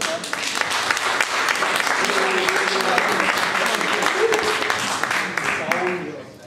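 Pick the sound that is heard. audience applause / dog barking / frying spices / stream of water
audience applause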